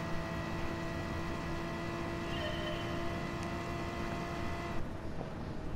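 Race car engine in Gran Turismo Sport on PS4, a steady sustained drone with a constant pitch that holds at an even level before shifting slightly near the end, with no talking.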